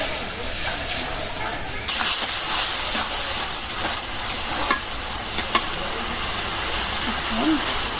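Dal tipped into a hot pan with green and dry chilies sets off a continuous hiss and sizzle, with a clear jump in intensity partway through and scattered stirring clinks. A voice speaks briefly near the end.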